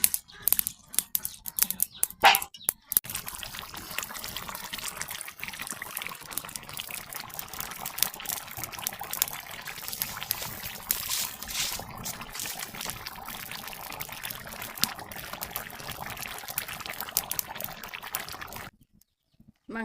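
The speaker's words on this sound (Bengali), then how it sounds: "এই তো যে ঝোলের পানি দিয়ে দেবো" Water poured into meat curry to make gravy, a close, steady gush and trickle lasting most of the clip, with a few sharp clatters at the start and a brief pause near the end.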